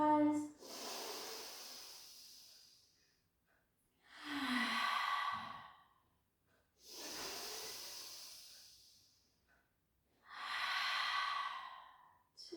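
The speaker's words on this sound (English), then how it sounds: "Inhale, let the belly rise." Slow, deep breaths during an intermediate Pilates exercise: four long airy inhales and exhales in an even rhythm, close and fairly soft, each lasting a few seconds with quiet gaps between them.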